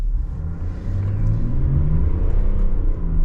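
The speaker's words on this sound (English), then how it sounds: "That turbo engine sure sounds good and puts a lot of torque down" A 2023 Chevrolet with the 3.0 Duramax turbo diesel engine accelerates, giving a steady, loud low rumble that builds slightly and holds throughout, with no talking over it.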